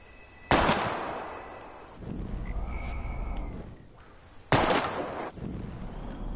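Two sharp gunshots fired at bottles in the video game Life is Strange, each a loud sudden crack with a brief tail, a few seconds apart over low ambient game sound.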